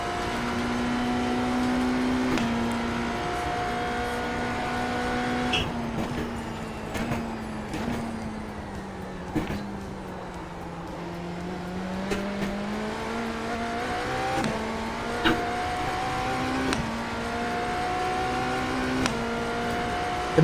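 BMW race car engine in iRacing, a continuous droning tone that rises and falls with gear shifts and throttle changes across the lap, loud and steady throughout with no talk.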